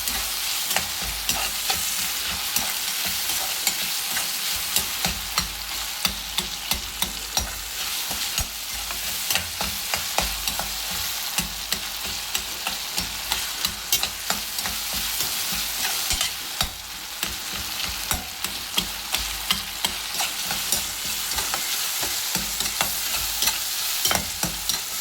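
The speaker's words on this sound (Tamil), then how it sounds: "இப்போ நம்ம கோவக்காயெல்லாம் போட்டு நல்லா வதக்க போகிறோம்" Tomatoes and ivy gourd sauté in a pan, a steady loud sizzle throughout with repeated scraping strokes of a spoon stirring, close up with no talking.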